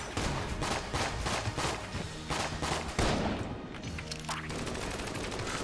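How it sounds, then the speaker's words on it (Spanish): Enemy gunfire in the game Enter the Gungeon crackles in dense, rapid volleys of shots, loud and continuous throughout, with no voices over it. "Cuando empieza a hacer todos esos disparos raros."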